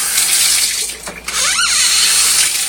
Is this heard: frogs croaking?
no